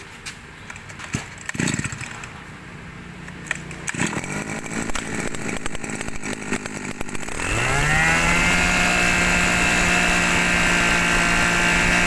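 Two-stroke brush cutter with a Mitsubishi TL20 engine, handled with scattered knocks and clatter before firing up at about eight seconds into a loud, steady, high-pitched idle that continues to the end, close by.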